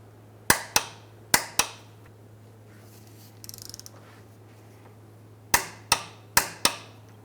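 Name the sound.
torque wrench tightening control arm bolts on Mazda CX-9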